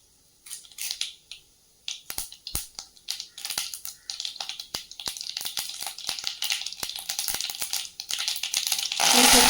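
Mustard seeds pop and splutter in hot oil for a murungaikaai thokku, a burst of sharp, irregular crackles building into dense sizzling, close and loud, with no talk over it.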